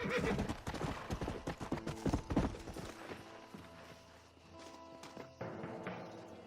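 Hooves clop steadily on the ground in Red Dead Redemption, a close, rhythmic run of hoofbeats that slows toward the end, with a brief whinny and faint game ambience around it.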